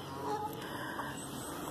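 A goose honks in a few brief nasal calls close by, with faint background noise and no speech.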